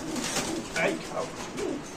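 Pigeons coo in soft, repeated low calls at a pigeon market, close by, mixed with faint background chatter.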